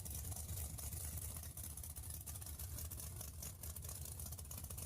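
A 632 cubic inch engine idles in a car tuning video game, a steady low rumbling drone with slight throbbing variations, moderately loud and continuous, with no speech.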